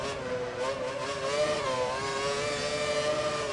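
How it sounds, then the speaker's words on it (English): Formula 1 car engine in F1 2012 on a race's final lap, a steady high-pitched whine held near constant with slight pitch wavering, loud and close, no talking. "You hear by his engine obviously how much he's revving in."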